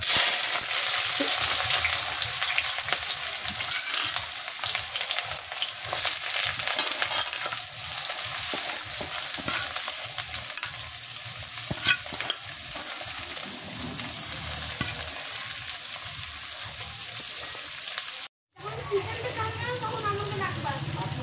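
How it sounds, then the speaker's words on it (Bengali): About 250 grams of chopped onions fry in a pan with a loud, continuous sizzle and occasional stirring scrapes. The sizzle runs steadily throughout and cuts out briefly near the end. "পেঁয়াজটা আমি ভাজবো ফার্স্টে, পেঁয়াজটা খুব ভালো মতো ভাজা হোক"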